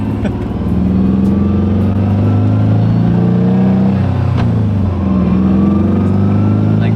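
A car engine revs up and down close by, rising and falling in pitch several times over a steady rumble.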